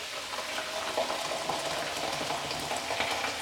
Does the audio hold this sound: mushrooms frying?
yes